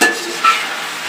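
Food being stirred and fried in a pot with yogurt as part of an iftar dish, giving a steady close sizzle with a brief scrape of the spoon partway through.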